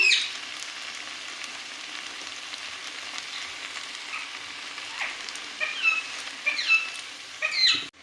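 Spices and chopped mustard greens fry in a pan for a pea-greens ghonto with potato and eggplant, giving a steady, moderate sizzle with faint crackles and a few brief stirring clinks near the end, without any talk.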